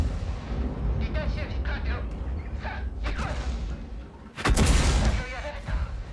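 Artillery fires in the tank battle game World of Tanks, a loud booming blast with a rushing roar that stands out over the continuous engine and battle noise while a player talks.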